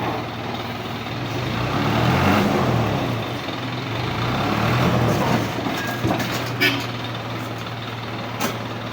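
A heavy double-tire truck rumbles past on a road at night, a loud low engine drone swelling and fading, with faint clicks and hiss of other traffic.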